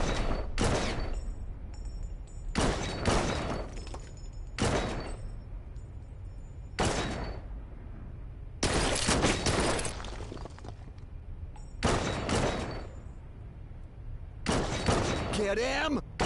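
Bursts of gunfire from a PS4 video game, several loud volleys spaced through the stretch with quieter gaps between, mixed with game voices and sound effects.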